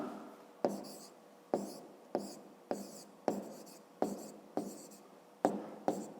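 Pen writing out a math word-problem solution on paper, about nine short strokes in an even rhythm, each a crisp scratch that trails off, close and fairly quiet with no talk.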